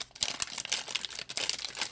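Close, rapid crinkling of a plastic bag being handled, crackly bursts in quick irregular succession with no voices.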